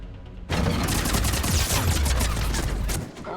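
Two turrets fire continuously in Mass Effect 3 on Insanity difficulty, during the From the Ashes DLC: a dense, loud burst of rapid gunfire begins abruptly, rattles for about two and a half seconds, then cuts off.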